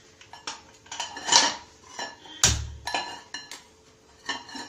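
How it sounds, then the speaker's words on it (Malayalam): A metal pan is set down and shifted on a kitchen stovetop before frying eggs, with a string of clinks and clatters and one sharp clang midway, close and fairly quiet with gaps between. "മുട്ട വറുക്കാൻ വേണ്ടി ഒരു പാത്രം വെക്കാം."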